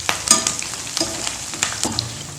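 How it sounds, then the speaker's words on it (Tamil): Curry leaves fry in hot oil while cauliflower chilli is being made, giving a steady close crackling sizzle with a few sharper pops and stirring scrapes throughout. "கருவேப்பிலை நல்லா பொரிஞ்சிச்சு, எடுத்துடலாம்."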